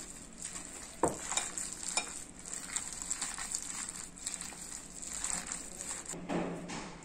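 Gentle hand-mixing of spinach pakoda batter gives soft, faint stirring and squelching sounds in a quiet kitchen, with a few light knocks against the bowl.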